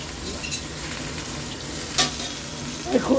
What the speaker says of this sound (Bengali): শুকনো লঙ্কা তেজপাতা ফোড়নে দিয়ে আলুটা তুলছি।